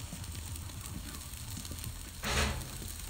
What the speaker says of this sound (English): Right over the flame. Not doing reverse sear on these. Doing a nice quick sear.